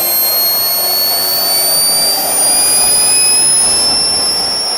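A small turbine jet engine spools up toward high RPM, producing a loud, steady roar with rising high-pitched whines climbing gradually throughout, close and continuous with no talk.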